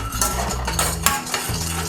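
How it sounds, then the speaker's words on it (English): A spoon scrapes and clinks while tostada topping of jalapeño and cilantro is mixed in a bowl, in a short run of close, rhythmic stirring. "simply mix it"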